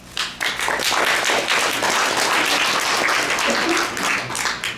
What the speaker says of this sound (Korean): 박수로 고맙습니다